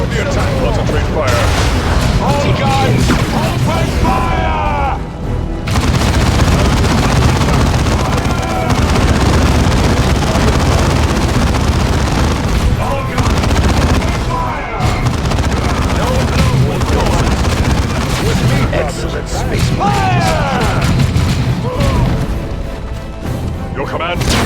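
All guns open fire in a Warhammer 40,000 Dawn of War II battle: loud continuous barrages, booms and crashing impacts roll on for the whole stretch, with voices speaking over the fighting.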